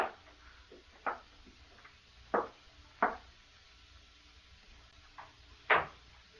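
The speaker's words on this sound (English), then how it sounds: "opened the door." A door opened in an old-time radio horror drama after a key turns in the lock: a handful of sharp clicks and knocks scattered over a few seconds, close by, over a faint steady hiss.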